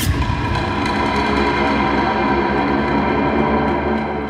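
Dark ambient Halloween horror effect from a free sample pack, a dense, droning, noisy wash that stays steady and loud throughout with no voices.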